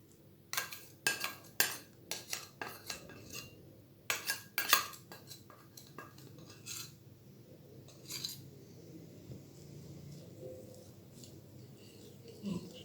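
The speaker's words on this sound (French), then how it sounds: "Battez l'ensemble à l'aide d'un fouet à main." A hand whisk beating apple cake batter with milk and cream in a bowl, giving a series of sharp metallic clicks and taps against the side, clustered early and then thinning out to sparse knocks.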